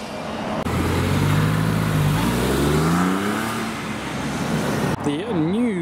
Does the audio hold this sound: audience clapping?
no